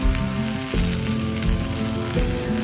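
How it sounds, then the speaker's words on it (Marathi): Cluster beans (gavar) sauté in hot oil in a pan, giving a steady, close sizzle and crackle that runs throughout, with a few soft scrapes and stirs and no talking. "आता गवार छान तेलामध्ये परतून घ्यायची"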